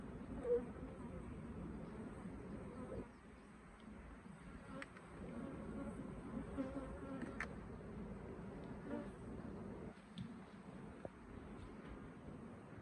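A steady, droning hum of many honey bees buzzing close by at an open hive, continuous throughout with small swells in intensity and a few faint clicks.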